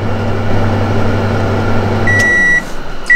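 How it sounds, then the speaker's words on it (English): A ramen cooker machine hums steadily, then its timer beeper goes off with a sustained high electronic tone followed by a shorter second beep as the hum cuts out. "we know that because the beeper went off"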